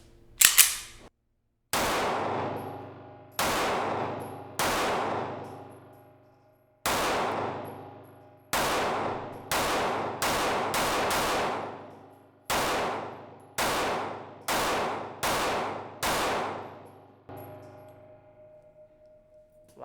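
Fourteen sharp, loud shots from a Sig 365XL pistol fired from a Magguts +2 extended magazine with its base pad, spaced in irregular bursts with ringing decay after each report, some pairs fired in quick succession.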